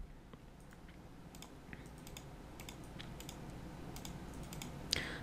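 Keys are pressed on a Yaskawa DX200 robot controller pendant while a job name is typed, producing faint, quick clustered clicks over a low steady hum.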